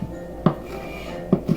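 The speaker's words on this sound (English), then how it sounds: "I'm chopping it." Three knife strikes chopping a bell pepper on a cutting board, one alone and then a quick pair near the end, separated by quiet kitchen background.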